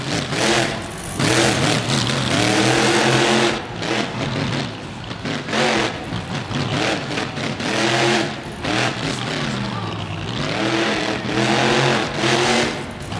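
A monster truck engine in the BeamNG video game revs hard and loud in repeated rising and falling surges, with brief dips between pulls, at a Monster Jam show in Hidalgo, Texas.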